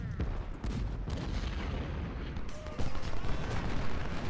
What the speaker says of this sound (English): Another volley into these guns.